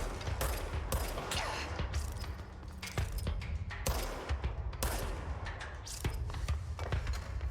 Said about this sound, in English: Definitely took a shot at me